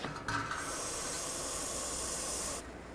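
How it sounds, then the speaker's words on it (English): Brake parts cleaner sprays from an aerosol can onto a 2007-2010 Chrysler Sebring transmission in one loud, continuous hiss of about two seconds, starting and stopping abruptly. "I'm going to rinse down the area with some brake parts cleaner"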